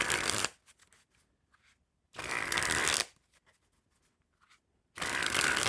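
A deck of Bicycle Euchre playing cards riffled and flexed in three close, crisp bursts, with quiet gaps between them.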